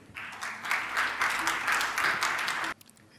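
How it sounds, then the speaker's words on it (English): Audience applause for a team at a 2022 startup pitch event, a steady wash of many hands clapping for under three seconds, then cutting off abruptly into quiet. "please give them a warm applause"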